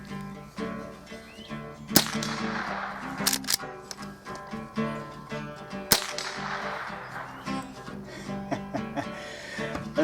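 Henry Frontier rifle shots at a target 50 yards out, two sharp cracks roughly four seconds apart over faint background sound.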